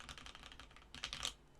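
Keystrokes on a Ninja 87 Bluetooth mechanical keyboard with GMK Monokai keycaps and banana switches, a quick run of soft, close clacks that are quiet and even, with no talk.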